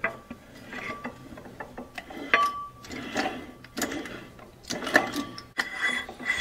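Metallic ratcheting and clicking while a part is screwed onto a Caterpillar D4 crawler transmission, irregular close taps and turning clinks with short scraping tones, fairly loud and without talk.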